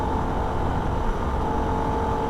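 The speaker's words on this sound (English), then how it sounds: "back into third gear, and run the car wide open throttle" A Holden VF Ute engine drones steadily at wide open throttle on the Nürburgring, a loud, constant in-car roar with a sustained engine tone and no talking.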